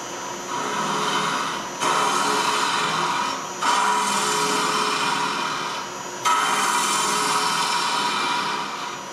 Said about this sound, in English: I'm going to show you how this tool will cut end grain beautifully.